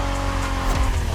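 Honda NSX, a 1990s sports car, driving in The Crew Motorfest on Hawaii roads: a loud, close engine roar with a brief tire squeal, heard alone without talking.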